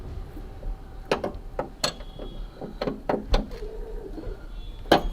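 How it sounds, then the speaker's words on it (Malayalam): A 21 mm box spanner works a suspension arm bolt loose on the front suspension upper arm of an Ambassador car, giving a string of sharp, irregular metallic ratcheting clicks and clacks at close range. "ഇപ്പോൾ 21 ബോക്സ് ഇട്ട് നമ്മൾ അപ്പുറാമിൻ്റെ ബോൾട്ട് ലൂസ് ചെയ്യണം കേട്ടോ"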